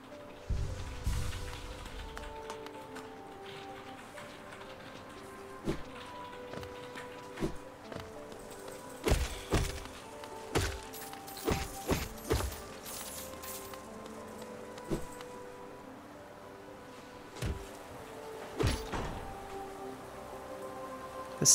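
Constant rain falls in the City of Tears in the Hollow Knight video game. It forms a soft, quiet patter under a faint ambient hum, with scattered sharp taps like footsteps.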